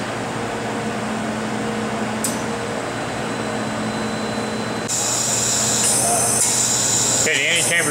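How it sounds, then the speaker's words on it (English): The antechamber of an Mbraun MB-150 glove box backfills with gas in a lab. A steady hiss and hum swells to a louder, brighter rush partway through, with a voice talking over it. "anti-chamber's backfilling now."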